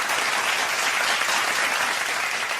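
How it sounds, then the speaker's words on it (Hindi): Studio audience applause on the set of a televised Ramadan quiz show, a dense, steady wash of clapping that stays loud and even throughout, with no voices over it. "तालियां होनी चाहिए"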